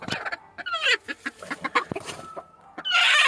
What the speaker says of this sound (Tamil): இந்த கூட்டுக்குள்ளே ஒரு கோழி கிடக்கு